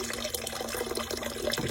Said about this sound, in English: You want to let it rinse until the water runs cool out of the pot